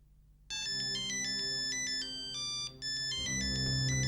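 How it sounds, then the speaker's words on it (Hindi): A mobile phone ringtone starts abruptly after a short quiet moment and keeps playing as a bright, repeating electronic melody of steady tones. It is loud and close, with a brief dip in the middle and no speech over it. "किसका फोन है?"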